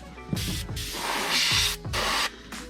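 An Iwata HP-CS airbrush, just reassembled after deep cleaning, blows compressed air in several steady, close hissing bursts separated by short pauses, with no talking.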